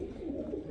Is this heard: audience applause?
no